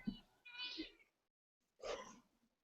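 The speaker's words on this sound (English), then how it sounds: "That's a cat." A cat meows twice on a small improv comedy stage, two short separate calls with a pause between them, close and fairly faint, with no talk over them.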